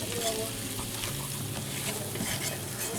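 Flour being whisked into bacon drippings and butter in a pan, a continuous sizzle with quick scraping strokes of a whisk, close and steady throughout.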